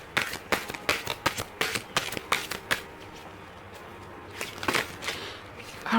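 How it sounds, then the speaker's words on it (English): A deck of oracle cards being shuffled by hand, with quick riffling bursts of papery flicks for the first few seconds, then a brief pause and a softer final round of shuffling, close and clear. "Let me try to shuffle and get one more card for you."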